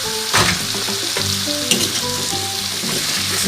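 Carrots and potatoes fry in a pan of chicken caldereta, a steady close sizzle with scattered clinks and stirring scrapes running throughout, no talking.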